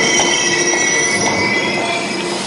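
Metal-on-metal wheel squeal inside a subway train carriage, steady high whining tones sustained loudly throughout with a rumbling rail undertone and no speech.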